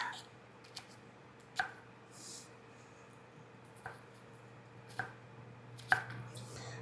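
A knife dicing a medium onion on a board, with a handful of sparse, sharp chops spaced irregularly over a quiet kitchen hum, fairly close and soft overall.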